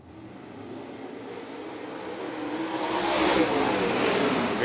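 A pack of dirt-track race cars at Fairbury roars off at the start of a ten-lap heat race, engines swelling louder as they accelerate past, with no talk during the surge.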